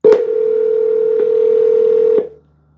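A steady telephone tone heard while dialing a number sounds loud and close for about two seconds, with faint clicks at the start and middle, then cuts off abruptly.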